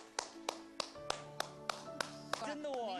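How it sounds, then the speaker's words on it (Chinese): Someone beside a fish pond claps their hands to call the fish: about nine sharp, evenly spaced claps close by, with a voice beginning as the clapping ends. "刚刚你一拍掌"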